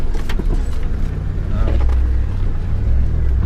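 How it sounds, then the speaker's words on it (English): An off-road 4WD descends a rocky Pilbara track in low-range first gear, its engine braking on compression with a steady, loud low drone and the rattle of tyres on stones. "pretty much most of the way down I've been first gear low and just fevering the accelerator when I need to, otherwise it's just going down on compression"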